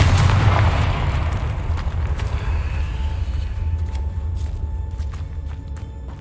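A Confringo spell blast in Hogwarts Legacy, a loud booming burst at the start that rumbles and fades into a lingering low tail with faint scattered impacts.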